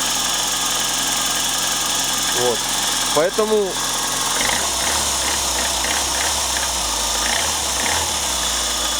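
A VAZ 2109 engine idles with a steady, close mechanical hum and a light, regular ticking from the hydraulic lifters, while someone talks briefly over it.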